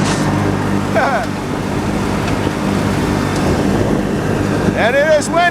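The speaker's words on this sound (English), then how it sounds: "And it is windy." Wind buffets a boat out on the water, a steady rushing roar against the microphone with the low rumble of the craft underneath and a few short squeaky sounds.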